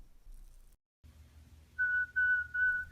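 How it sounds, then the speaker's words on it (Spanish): A thin, steady whistled tone plays in three short phrases over a faint low hum, fairly quiet and alone. "Adentro, un travieso castaño silbaba satisfecho y se alejaba rumbo a un lugar desconocido."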